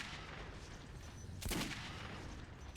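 A single gunshot in the video game Metro 2033, one sharp loud crack rising abruptly over a faint background hum, then fading quickly.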